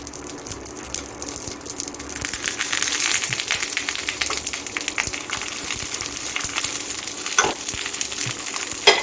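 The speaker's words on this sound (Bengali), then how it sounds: "গ্যাসে আমি একটা প্যান প্যান বসিয়ে সর্ষের তেল দিয়ে গরম করে নিয়েছি এখন আমি পাতুরিগুলি কলার পাতা এক এক করে দিয়ে দিচ্ছি" Radish paturi wrapped in banana leaves fries in hot mustard oil in a pan on a gas stove, with a loud continuous sizzle that swells after the first couple of seconds and carries occasional clatter and scrapes.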